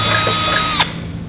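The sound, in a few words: power drill drilling bolt holes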